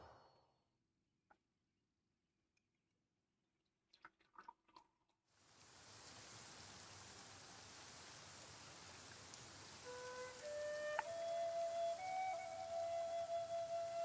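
Rain falls in the video game Genshin Impact. After several seconds of near silence broken by a few small clicks, a steady hiss of rain sets in and continues, with faint tonal game sounds joining later.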